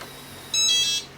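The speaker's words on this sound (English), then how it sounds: "And of course it beeps for you to let you know that it's all done." A keyless RV camper door lock gives a single short electronic beep after unlocking, clear and close, with near silence before and after.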